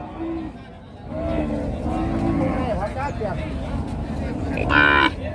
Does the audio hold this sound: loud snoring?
no